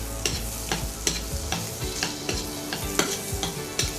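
Grated green chillies frying in a pan for a papad roll snack, with a steady sizzle broken by sharp, regular scrapes and taps of a stirring spoon.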